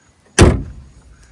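A single sharp slam of a 2017 car's door being shut after an oil change, loud and close, with a short decaying thud and no talk.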